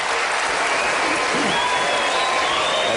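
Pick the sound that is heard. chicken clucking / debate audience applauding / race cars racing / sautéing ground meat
debate audience applauding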